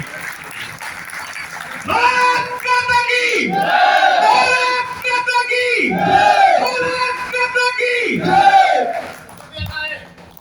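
A crowd at a Hindi poetry gathering shouts rousing cheers in repeated swelling waves, loud and massed, each roar rising and falling with brief dips between.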